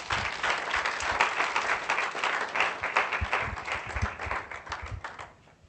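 Audience applause at a 2016 graduation ceremony, a dense sustained patter of many hands clapping throughout, fading toward the end.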